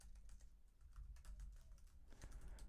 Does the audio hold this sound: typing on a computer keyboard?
yes